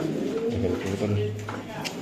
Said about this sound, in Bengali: এই যে 2019 এর কবুতর